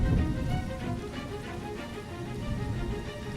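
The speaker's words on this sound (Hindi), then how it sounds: "उस ठिठुरती ठंड की बरसती बारिश में थरथराते हुए सीता को आवाज देती है।" Cold winter rain falls on a forest path in an animated Hindi story, a steady patter of drops heard at moderate volume with a faint musical backdrop, continuous from start to end.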